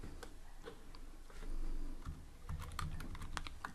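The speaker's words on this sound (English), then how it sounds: "I'm going to type PyCharm." Close, fairly quiet computer keyboard typing, a short irregular run of light key clicks with a few taps bunched toward the end.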